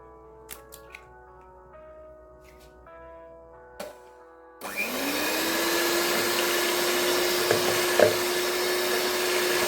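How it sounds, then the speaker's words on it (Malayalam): An electric mixer beats three eggs for a carrot and dates cake, starting abruptly and then running as a steady, loud whir with a constant motor hum that carries on to the end. "നമുക്കൊരു മൂന്ന് മുട്ടയൊന്ന് ബീറ്റ് ചെയ്തെടുക്കണേ"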